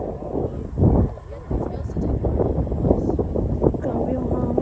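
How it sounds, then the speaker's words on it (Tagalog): Strong wind gusts past the microphone on a scenic coastal drive in Siargao, a loud rushing buffet that continues throughout while people chat nearby. "Grabe yung hangin."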